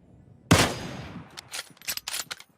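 Gunfire in an online shooter game: one sharp loud shot followed by a scattered burst of quicker cracks, close and dry, with no voices.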